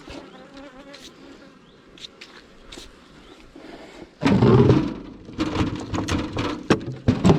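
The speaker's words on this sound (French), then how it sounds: "en retirant les dernières abeilles" Honey bees buzz close around beehive supers as frames are cleared, with a soft hum at first and then a loud, dense swarm of buzzing joined by rustling and knocking of the frames.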